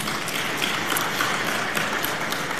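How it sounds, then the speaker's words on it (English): A chamber audience at a provincial budget session gives a steady round of applause for a dignitary, a dense even wash of many hands clapping with no talk. "you may give her a round of applause"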